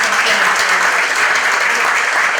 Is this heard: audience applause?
yes